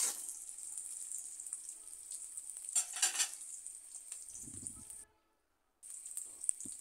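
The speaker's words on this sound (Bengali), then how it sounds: "পেঁয়াজ কুচি কিছুক্ষণ ভেজে নেওয়ার পর এখানে 2-3টা কাঁচামরিচ দিয়ে দিলাম" Onion and green chillies fry in a pan with a steady, close hiss and sizzle, with a few louder spatters and a brief silent gap near the end.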